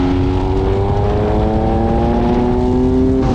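A 2020 MV Agusta Brutale 800RC motorcycle pulls hard in sixth gear, its engine tone climbing steadily in a loud, close, continuous drone with nobody speaking.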